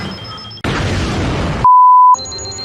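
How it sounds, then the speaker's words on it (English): A bomb timer in the television drama Primeval beeps, then a loud burst of noise covers it before a single piercing high tone sounds and cuts off abruptly, followed by quieter tonal ambience. "The timer beeps in an increasingly higher pitch before cutting out"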